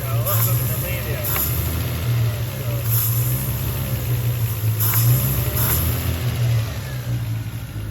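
A Lexus IS200 Sport engine idling roughly with a sticky, delayed throttle body: a steady low engine drone that wavers and stumbles unevenly, close by, with someone talking over it.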